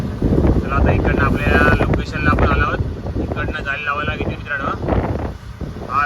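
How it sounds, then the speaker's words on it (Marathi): Strong wind roars over a fishing boat rocking at sea off Satpati during pomfret netting in bad weather, with steady gusting microphone buffeting and someone talking over it. "आपली बोट कशी वाऱ्यावर हलते वारा भरपूर आहे मित्रांनो हवामान खूप खराब आहे"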